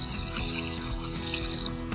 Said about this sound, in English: You have to dissolve that in water, and then we're going to put that over